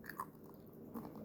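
Crisp bites and chewing crunches of nacho chips with guacamole, close and quiet, in a few brief sharp bursts.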